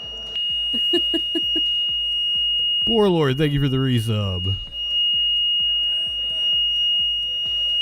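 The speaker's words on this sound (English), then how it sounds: "I think a smoke alarm battery is part dead." A smoke alarm with a failing battery gives off a steady high-pitched electronic tone alongside regular ticking pulses. Someone speaks briefly over it.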